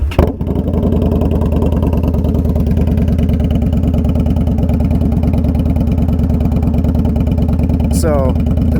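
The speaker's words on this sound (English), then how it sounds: "this is the first time that I have heard an exhaust on an Indian Scout" An Indian Scout Bobber motorcycle with an aftermarket exhaust idles loudly and steadily close by, its low, even pulsing holding throughout, with a brief rising rev near the end.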